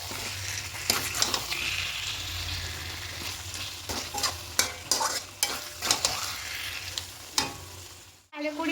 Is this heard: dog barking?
no